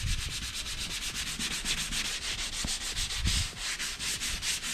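Car bodywork is scuffed by hand before priming, with fast, even back-and-forth abrasive strokes repeating close up in a steady rhythm.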